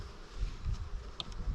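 Bees buzz around a hive frame during a colony split, a faint, steady low drone close by with a brief higher-pitched buzz from a single bee passing near, no voices.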